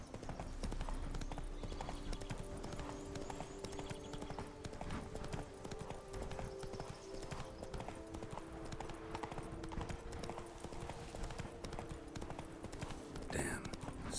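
In The Witcher 3, Roach the horse's hooves beat a steady, rapid clip-clop for the whole stretch at moderate loudness, with faint tonal game sounds underneath and a brief burst near the end.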